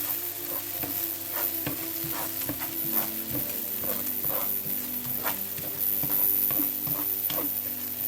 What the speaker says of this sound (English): And this is the point you now start stirring.